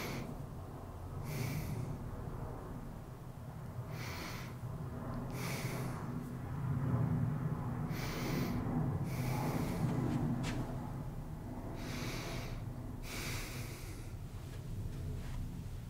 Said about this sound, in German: dieses tiefe Atmen beruhigt.